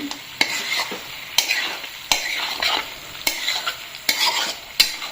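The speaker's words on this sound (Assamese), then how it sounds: "এতিয়া জিৰা আৰু জালুকৰ গুড়াখিনিও বঢ়িয়াকৈ মিক্স কৰি দিম" Pork curry stirred in a pan with cumin and pepper powder, Assamese style, repeated sharp scrapes of a spoon against the pan about once a second over a continuous close sizzle, with no talking.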